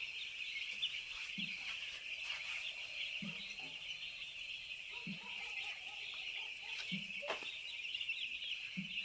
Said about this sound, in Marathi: चिक्स आलेले आहेत आणि आज चौथा दिवस आहे